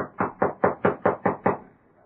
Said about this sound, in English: Knock on the door again.